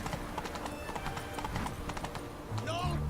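Hooves of the horse Roach in The Witcher 3 clip-clopping at a steady walking rhythm, with game speech over them and a brief neigh near the end.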